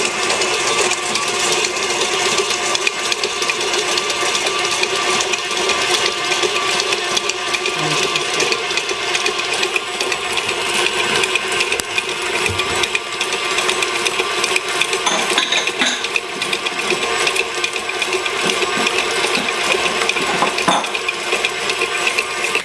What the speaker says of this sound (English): if you have one of these stand mixers, it's better